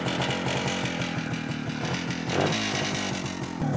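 A Cezeta Sport 477 scooter engine runs close by with a buzzy, raspy two-stroke-like drone and fast regular pulsing, sustained throughout with no talking.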